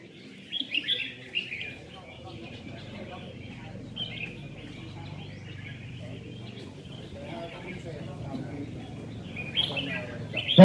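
Red-whiskered bulbuls sing in a song contest, with bright chirping phrases in bursts over a murmur of crowd voices and someone talking.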